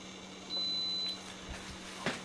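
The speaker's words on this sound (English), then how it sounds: "if you heard the beep just now, it went from preheating now to cooking" A single short electronic beep from an Instant Pot switching from preheating to cooking, over quiet room noise, followed by faint clicks and handling sounds.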